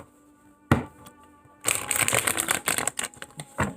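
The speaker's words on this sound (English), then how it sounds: "Shuffle a few times to get a connection with the cards." Tarot cards being shuffled: one sharp snap, then a dense, continuous riffling flutter of cards for about two seconds, close and fairly loud, with no talking.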